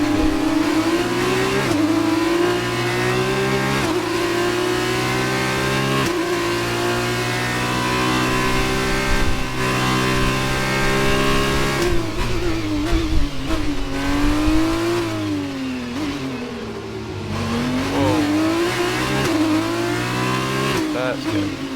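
An F1 car engine in F1 2019 at the Azerbaijan feature race, held at high revs with rising and falling harmonic pitch sweeps, loud and sustained, with a voice talking over it.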